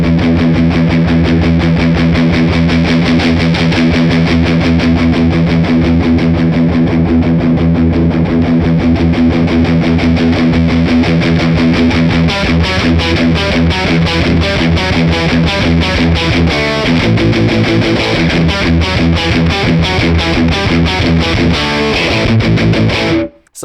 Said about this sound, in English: I'm going to mess with the tone knob while I play that palm muted